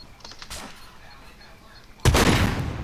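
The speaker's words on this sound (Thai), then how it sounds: "โดนตัวแรงระเบิด" A sudden loud explosion in the survival video game SCUM, a broadband burst after a quieter stretch with faint shots or thuds, staying loud and sustained to the end.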